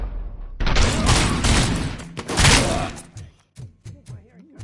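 Rapid bursts of explosions and gunfire from the PS5 game RoboCop: Rogue City, a loud dense barrage for a few seconds, then separate sharper blasts and thuds spaced out near the end.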